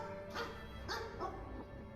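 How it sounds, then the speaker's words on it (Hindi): A dog barks and yips in a few quick bursts, heard faint and somewhat distant against a low background hum, set in a narrated Hindi horror story. "नदी के उस पार वो कुत्ता जोर जोर से भौंक रहा था।"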